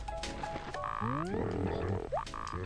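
Camo Frog, a frog villager in Animal Crossing, croaks in a short run of bubbly, rising chirps and warbles over soft game music, close and clear.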